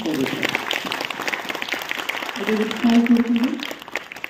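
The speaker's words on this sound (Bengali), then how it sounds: "আপনারা একটা জোরে হাততালি দিন" An audience claps after a children's theatre festival play at Naihati Oikatan Mancha, steady applause running under a host's voice.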